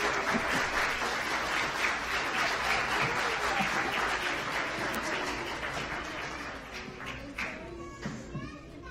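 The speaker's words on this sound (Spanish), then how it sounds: "Que se oiga ese aplauso para nuestros niños y artistas" At a Christmas concert, the audience gives sustained applause for the children and artists, dense clapping mixed with scattered voices and children's chatter, gradually thinning out near the end.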